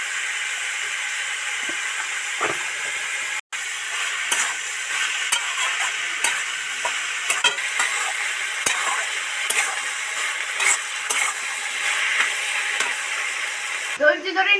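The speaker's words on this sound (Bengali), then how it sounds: "নেড়ে নেড়ে পুরটা রেডি করতে লাগবে" A banana-flower filling for samosas, seasoned with salt, chilli powder and a little sugar, being stirred in a pan, with a soft steady sizzle and irregular spoon scrapes and taps, close and without talk.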